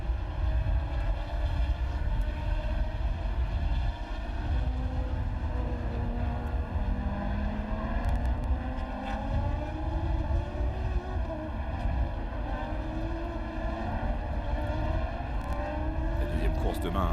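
Formula Renault 3.5 race cars circling slowly behind the safety car at the Hungaroring, 2008: a steady drone of engines with gradual rising and falling pitch as cars pass, continuous throughout.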